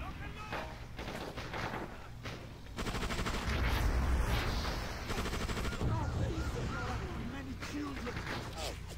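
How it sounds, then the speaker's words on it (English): Gunfire in the action video game Just Cause, rapid bursts of automatic shots and scattered booms rattling on continuously at mid volume, with a voice talking over the battle. "I can't tell who's shooting."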